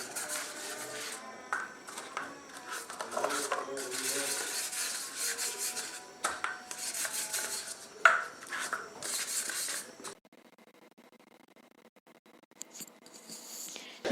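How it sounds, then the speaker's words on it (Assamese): Cupcake cups being greased with a little oil, giving close, soft rubbing and scraping sounds in irregular bursts, followed by a quieter stretch near the end. "এই কাপকেইটাত অকণমান তেল সানি লৈছোঁ"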